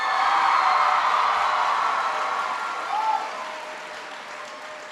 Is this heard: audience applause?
yes